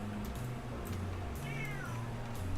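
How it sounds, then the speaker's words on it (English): A pet cat gives a short, fairly faint meow against steady background noise during a livestream. "Rude kitty."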